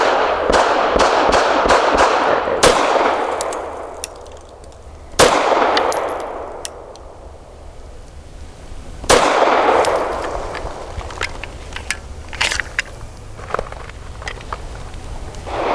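An FN 509 Midsize Tactical pistol firing Federal Syntech Training Match 124-grain rounds outdoors: a few sharp, loud reports with ringing decays, spaced seconds apart, mixed with lighter metallic clicks and clinks between shots.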